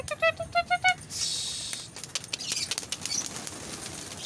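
Pigeons burst into flight with several sharp, rhythmic wing claps, followed by a louder whoosh of flapping wings and scattered fluttering as the flock rises and moves off.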